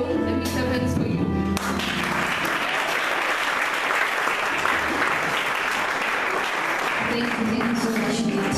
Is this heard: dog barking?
no